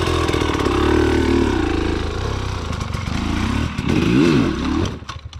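A motorcycle engine while riding, a loud, close, throaty drone that rises and falls as the rider shifts and revs, fading at the end, with no voices.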